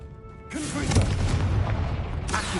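A Confringo spell in Hogwarts Legacy goes off in a sudden, loud burst of fiery explosion, sustained rumbling and crackling for about two seconds before tapering slightly.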